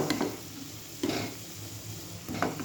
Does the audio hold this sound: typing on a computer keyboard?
no